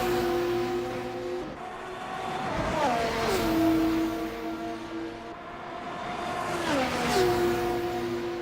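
F2 race cars lapping the Phillip Island track in a racing video game, engines droning loudly at high revs, pitch dropping through gear changes and swelling again as cars pass in two distinct waves, no talk over it.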